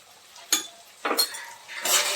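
A spoon stirring dal with salt and coriander-cumin powder in a pot: three short, separate scraping clinks of utensil against metal, quiet and close, with no talk.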